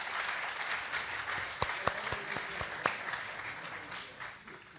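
Audience applause at an insurance conference session, steady clapping from a seated crowd with a few sharper individual claps standing out, fading toward the end.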